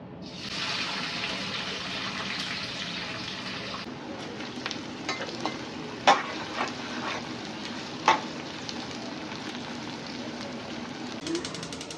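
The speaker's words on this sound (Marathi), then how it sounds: "तर एक साईडला इथे आता कांदा तळतोय" Onions deep-frying in plenty of hot oil for chicken biryani, a dense continuous sizzle with a few sharper clinks of a utensil, steady and fairly faint.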